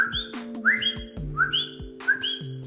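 Two-note chirping calls of coqui frogs at night in Puerto Rico, repeated several times in a steady rhythm, with a constant high tonal hum in the background.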